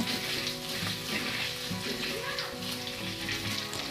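A salted vegetable chop mixture frying in a wok, with a dense, even sizzle and crackle that continues steadily at moderate volume.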